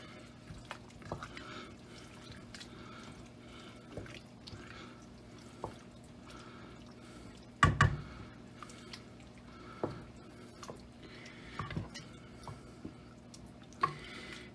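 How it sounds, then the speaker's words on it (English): Rinsed, drained sauerkraut with caraway seeds is stirred in a cooking pot, giving sparse, soft wet squishes and light drips with an occasional sharper knock against the pot, quiet and close, with no talking. "Give that a nice stir."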